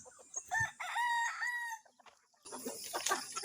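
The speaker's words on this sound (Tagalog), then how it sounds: "nagpatuka ng mga alagang manok paglabas ng liwanag" Chickens cluck close by, and a rooster crows loudly with its drawn-out call, followed by more busy clucking and scratching.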